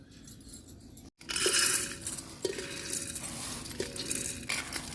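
Soaked whole moong beans poured into a pressure cooker, a bright rattling patter of small hard grains on metal that starts abruptly and continues in a few close, loud bursts with brief pauses.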